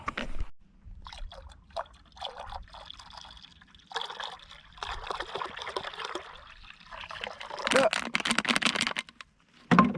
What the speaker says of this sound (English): let's go ahead and fill up this water